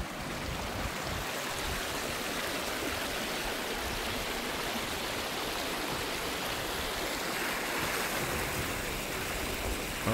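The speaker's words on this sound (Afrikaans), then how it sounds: "hierdie is die rivier wat die grens vorm van die plaas" A river along a farm boundary near Vaalwater, a steady broad rushing flow of water, loud and constant throughout with no pauses and no voices.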